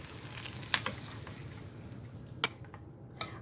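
Hot olive-oil tempering sizzles softly as it is poured over beetroot raita, a quiet steady fizz broken by a few light clinks.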